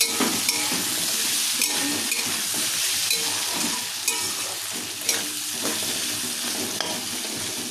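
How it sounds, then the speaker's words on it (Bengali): Potatoes fry in an uncovered pan with a steady, loud sizzle, and repeated stirring scrapes and clinks against the metal run throughout. "এমনি খোলা অবস্থাতেই হালকা হয়ে ভাজা হবে।"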